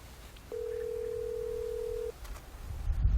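A telephone ringback tone during an attempted phone call, one steady, loud electronic tone held for about a second and a half, then cut off into a quiet line.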